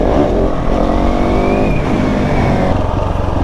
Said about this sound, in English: Accelerate, have a bit of momentum, dab the clutch, keep accelerating through.